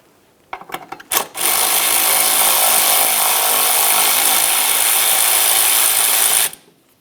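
A power tool drives off a 10mm nut on the upper ball joint bracket of a 2003-2007 Honda Accord. A few short clicks come first, then a loud, steady whir runs for about five seconds and cuts off abruptly.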